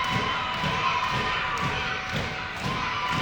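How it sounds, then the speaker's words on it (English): A wrestling crowd at the ETWA Border Brawl 2023 show cheers on Katrina Creed in her match against Shikaka, a steady roar mixed with repeated heavy thuds from the ring, with commentary running over it. "Crowd getting behind Creed here."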